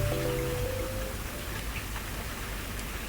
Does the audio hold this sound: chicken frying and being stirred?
no